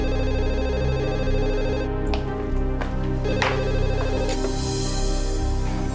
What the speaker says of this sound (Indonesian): Aku harus telepon Desi sekarang